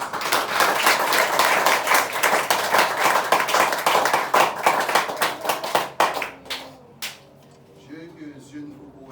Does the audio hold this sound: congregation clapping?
yes